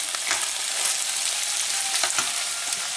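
Macaroni with fried meat sizzling in a pan on a small stove inside a winter fishing tent, a close, steady crackling hiss with occasional louder pops.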